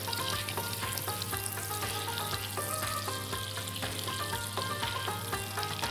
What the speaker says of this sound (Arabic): هنستنى لما الزبده والزيت يسخنوا كويس جدا وبعدين ننزل بالسجق على طول